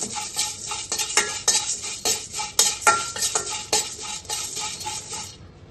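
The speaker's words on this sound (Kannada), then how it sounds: "ಲವಂಗ ಹಾಕ್ತಾಯಿದ್ದೀನಿ, ಒಂದು 10 ಗ್ರಾಮು." Cloves tossed and stirred in a hot pan while making sambar powder, with a steady run of sharp scraping and clinking strokes of a spoon against metal at a roughly even rhythm, close and fairly loud.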